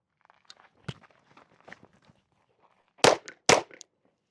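A Glock 19X pistol fires during an outdoor range drill. Quick running footsteps and light movement are followed by two loud, close shots about half a second apart.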